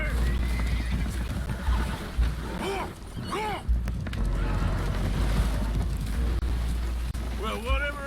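Spooked horses whinny and neigh repeatedly aboard a holed, leaking boat in a video game, sharp loud calls over rushing wind and water noise, with hoof clatter and some voices mixed in.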